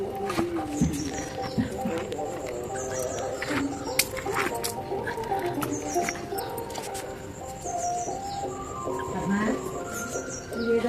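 Small backyard chickens in their pen give off soft, high chirps and peeps, repeated in irregular bursts over a low, busy outdoor background.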